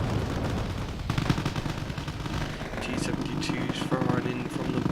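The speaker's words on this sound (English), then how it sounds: "T-72s firing in from the back, giving covering fire." T-72 tanks lay down covering fire in Wargame: AirLand Battle during a large infantry assault on a town, with booming shots and crackling small-arms fire over a constant battle rumble while someone talks over it.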